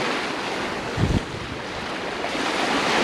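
Surf rolls in where waves meet from opposite sides at the Palad sandbar in Marinduque, a steady roar of breaking water mixed with strong wind buffeting the microphone, with one brief low thump.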